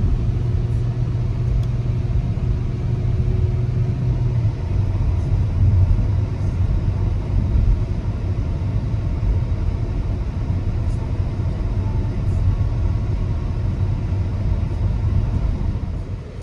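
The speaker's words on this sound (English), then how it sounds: "Now driving in the RS5 is very enjoyable. This is a very smooth car, even with it being in RS mode," A 2021 Audi RS5 driving smoothly in RS mode, a steady low engine and road rumble heard from inside the cabin, continuous and even throughout.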